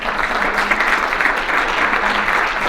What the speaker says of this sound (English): Can we give those students a round of applause?